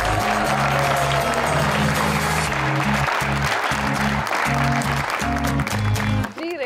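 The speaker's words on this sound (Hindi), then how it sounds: "राणा मशहूद साहब के लिए बहुत सी तालियां" Studio audience applause welcoming a guest on a television talk show, sustained clapping over loud rhythmic music with a pulsing beat, both running steadily until a brief drop at the end.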